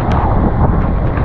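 Strong typhoon wind from Typhoon Uwan roars steadily outdoors, a dense continuous rumble buffeting the microphone with no break.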